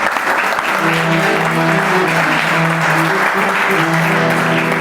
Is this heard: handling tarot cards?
no